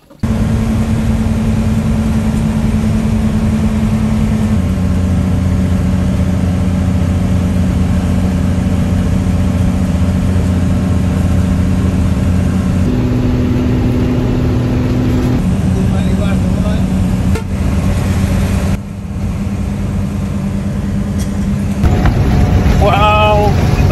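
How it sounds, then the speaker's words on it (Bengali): A car drives at high speed across the Padma Bridge in Bangladesh, heard from inside as a loud, steady engine drone with road and wind roar, its pitch shifting in steps as gears change. "গাড়ি এখন মানে কি পরিমাণ জোরে চলতেছে সেটা আমি বলে বুঝাইতে পারবো না।"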